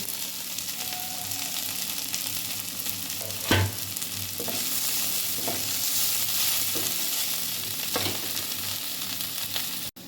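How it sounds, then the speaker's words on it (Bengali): Continuous sizzling of fried potatoes with a spatula scraping and stirring through them, several sharp clacks against the pan, close and steady, no voices. "এবার আমি ভাজা আলুগুলো দিয়ে দিচ্ছি"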